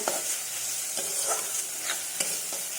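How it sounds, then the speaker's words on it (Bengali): Masala for an egg tadka stir-fried in a pan, with a continuous close sizzle broken by regular spatula scrapes about every second and no voices. "যতক্ষণ এই মশলার গা থেকে তেল বেরাবে ততক্ষণ আমি মশলাগুলো কষিয়ে যাব"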